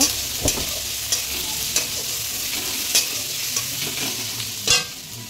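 Mutton with a little sugar stirred in a frying pan: steady close sizzle under repeated scraping strokes of a spoon, with sharper clacks every second or so and no talking.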